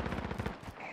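Rapid burst of video game gunfire aimed at the player, a quick string of sharp close shots packed into about a second, loud and alone.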